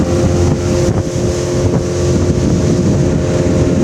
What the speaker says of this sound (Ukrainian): Дістатись туди можливо лише на човні.